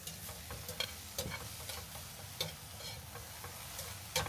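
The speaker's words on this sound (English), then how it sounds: "just some green peppers and red onions that are cut into little tiny pieces. And we'll probably just saute this for like 5 minutes or so" Finely diced green peppers and red onions sautéing in a pan outdoors, a soft steady sizzle with occasional light clicks and stirring scrapes, fairly quiet and alone.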